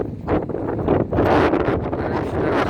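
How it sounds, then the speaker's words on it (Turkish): Wind buffets the microphone in a steady low roar, swelling in gusts throughout, close and loud. "Burada çok rüzgar var."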